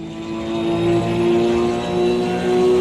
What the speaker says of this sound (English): The car sounds so much better in chase cam than in cockpit cam for some reason